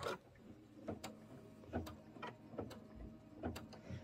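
An embroidery machine stitches the tack-down line on a bag front, a quiet mechanical whir broken by regular sharp clicks and thumps roughly every second, no voices.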